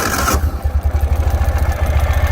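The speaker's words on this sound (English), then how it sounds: "Here the bike starts up on short order and idles quite happily." A 2018 Ural Retro motorcycle fires up and settles into a steady, loping idle, its deep, even engine pulses loud and close after a short burst of starter noise.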